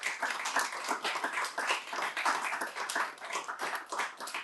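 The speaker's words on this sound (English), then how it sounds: "Let's give a quick round of applause for our members." A live audience at a climate week event breaks into brisk, close applause, dense overlapping hand claps holding steady for several seconds with no talking over it.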